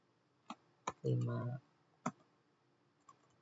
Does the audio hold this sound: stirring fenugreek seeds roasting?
no